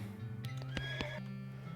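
A horse in the West of Loathing video game neighs with a whinnying call, accompanied by a few sharp clip-clop hoof knocks, fairly close against a soft background tone.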